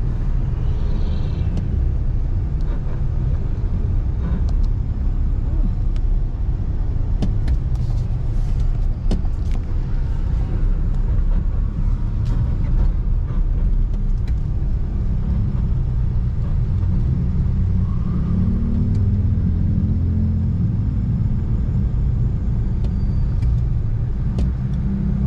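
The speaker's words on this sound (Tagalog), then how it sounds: "Traffic lang dito." Heavy road traffic in the town of Tanay, Rizal, with cars and engines rumbling continuously nearby, a dense steady drone with occasional passing vehicles and brake hiss.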